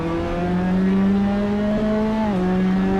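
A Ginetta GT5 race car engine drones loud and steady in a racing simulator. Partway through, the pitch dips as the car downshifts, and the engine keeps running under load with no talk over it.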